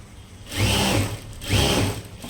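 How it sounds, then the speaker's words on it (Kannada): A sewing machine stitches a blouse lining in two separate bursts of steady, fast whirring, each lasting close to a second and rising and falling, with brief quieter pauses between them and no speech. "ಒಂದು ಟೆನ್ಷನ್ ಮಾರ್ಜಿನಲ್ಲಿ ಹೊಲಿತಾ ಇದ್ದೀನಿ"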